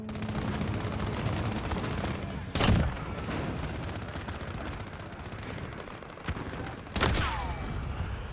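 Sniper rifle shots in the video game Modern Warfare: two sharp, loud cracks a few seconds apart stand out against a busy bed of game noise and distant gunfire.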